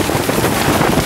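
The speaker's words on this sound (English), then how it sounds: "the wind is really whipping up" Gusty wind blasts across the microphone outdoors during wet, blustery weather, a loud continuous roar and buffet with no pauses.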